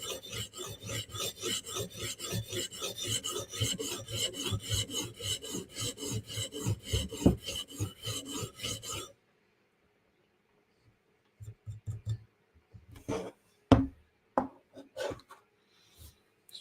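Steady rhythmic rasping as the edge of a Steel Will flipper knife is reprofiled on a sharpening stone, close and continuous strokes for several seconds, then a pause followed by a few scattered scrapes and taps.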